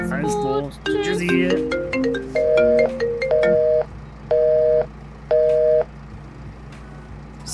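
Phone ringtone inside the farming game Farming Simulator 22: a short rising melodic jingle followed by a series of repeated, evenly spaced electronic ring bursts, loud and clear, with soft background game ambience underneath.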